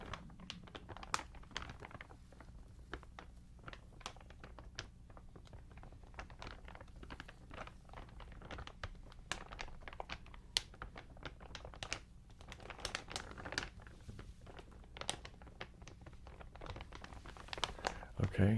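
Soft crinkling from an ASMR session, with many small, close crackles and taps arriving in an irregular steady patter. Quiet overall, with a faint background hum.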